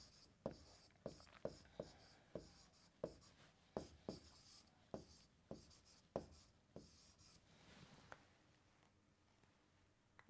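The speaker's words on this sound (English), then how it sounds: "Just writing all the 4 in the box" Pen strokes fill the boxes of a genetics checkerboard, a series of sharp, close taps and short scratches in a fairly regular rhythm. They come through clearly over a quiet background, and nobody speaks.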